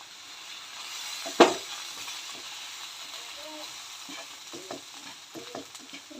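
A spoon stirs coriander powder, chili powder and salt frying in a pan for a dry shrimp and raw mango fish curry, starting with one sharp clink against the pan, then soft scraping over a faint, steady sizzle.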